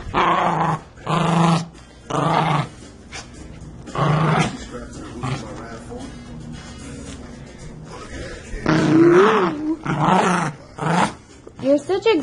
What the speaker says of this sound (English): You're such a growling little puppy.